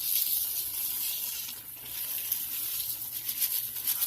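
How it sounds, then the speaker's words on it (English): Dry rice pours into a pot of simmering chicken and water, giving a steady hiss and sizzle of grains hitting the liquid that holds for about four seconds without a break. "I am going to go ahead and add my rice."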